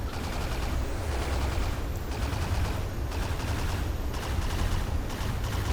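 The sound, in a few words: gunfire from a gunship's side cannons in a video game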